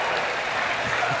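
A stadium crowd at the 2009 Men's College World Series finals between LSU and Texas keeps up steady applause and cheering, a dense wash of clapping throughout.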